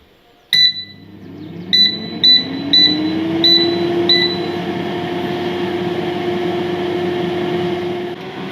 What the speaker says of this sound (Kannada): ಇದನ್ನು ನಾನು 180 ಡಿಗ್ರಿಯಲ್ಲಿ ಒಂದು 10 ಮಿನಿಟ್ಸ್ ಏರ್ ಫ್ರೈ ಮಾಡ್ಕೊಳ್ತಾ ಇದ್ದೀನಿ